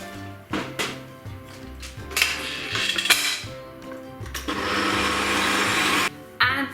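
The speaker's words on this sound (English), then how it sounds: "I am just going to add them into my stirring machine here and just start with the whisking" An electric stand mixer whisking egg whites for a meringue base, starting and stopping in short whirring bursts with clinks of the bowl, then settling into a sustained loud high whir before cutting off.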